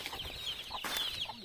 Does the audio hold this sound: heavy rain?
no